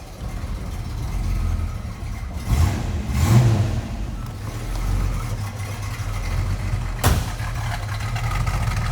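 A 1968 Ford Mustang convertible idles steadily through its dual exhaust, a deep, even rumble heard up close with a couple of small blips of revving partway through.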